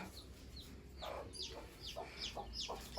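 A hen with chicks clucks softly in short repeated calls while high-pitched chick peeps chirp rhythmically close by, over low background noise.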